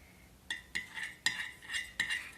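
A utensil stirs a slime mixture in a bowl, making a series of sharp clinking scrapes about every half second against a quiet background.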